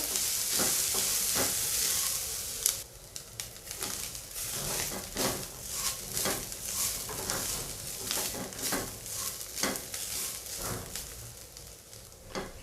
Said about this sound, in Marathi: आता हे मी खोबरं आणि हे सर्व भाजून घेते थोडं